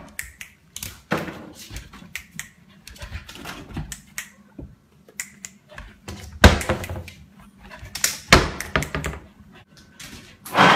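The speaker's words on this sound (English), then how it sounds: "Chucky, close the drawers." A trained dog shutting drawers, a series of irregular wooden knocks and thuds, some sharp and loud slams, others lighter clicks, close by with no speech.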